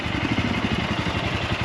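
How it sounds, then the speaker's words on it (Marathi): A motorcycle engine idles close by on a road trip departing early morning for Manali, a steady low rhythmic thumping chug with light mechanical clatter, loud and alone without any talk. "ही आपली बाईक आहे."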